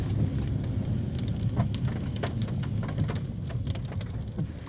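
Steady rain falling on a Melbourne city street with trams nearby, a constant close hiss of drops on the pavement with faint traffic rumble underneath.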